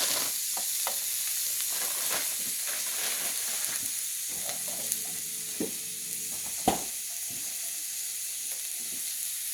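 Frozen pre-cooked sausage patties sizzle on a grill, a steady, close hiss running throughout with a few faint scrapes and one sharper tap.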